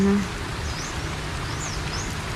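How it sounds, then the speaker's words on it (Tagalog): Rain falls steadily on a vegetable garden of string beans and okra, a continuous even hiss close by, with a few faint bird chirps far off. "At nakay lumalakas na po lalo ang ulan."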